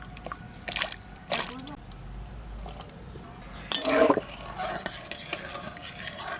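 Jackfruit seeds washed in salted water: a few close splashy swishes and sloshes of water in a bowl, separated by pauses, with a brief louder slosh midway over a low hum.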